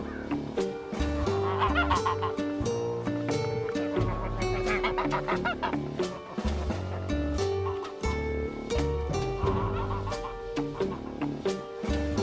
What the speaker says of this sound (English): These geese mean everything to me, so Mother Goose is the right name.